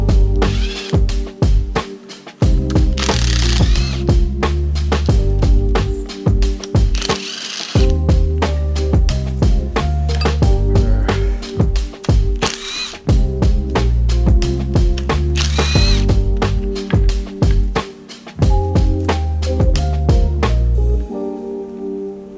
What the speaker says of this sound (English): the vibration dampener pulley with a rattle gun is the quickest way